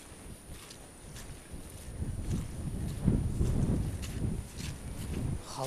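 Wind gusting against an outdoor microphone, low rumbling buffeting that rises and swells toward the middle, with faint rustling underneath.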